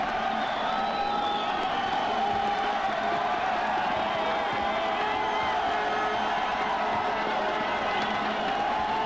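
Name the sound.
stadium crowd cheering at soccer final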